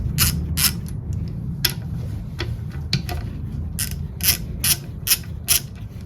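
A ratchet clicks in short bursts as bolts holding the backing plate to a Cub Cadet Original engine block are undone, with sharp metallic ticks and pauses over a low workshop rumble.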